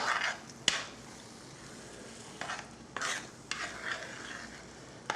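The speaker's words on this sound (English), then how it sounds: "we stir it all together" A spoon stirs roux into a cooking mixture in a pot, making quiet intermittent scraping strokes and clinks over a faint sizzle.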